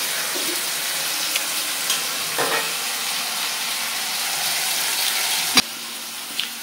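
Fritters (bora) fry in hot oil in a home kitchen, giving a steady, moderate sizzling hiss with a few sharp clinks and spatters, and no one speaking.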